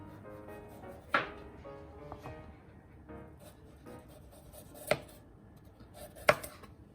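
A knife cutting around the edges of food while potstickers are made, heard as a few sharp, isolated knocks on a cutting board spaced seconds apart over a quiet kitchen background.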